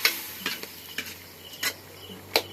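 Chicken adobo being stirred in a pan over a wood fire, a few scraping stirs with soft sizzling beneath, close and moderately quiet.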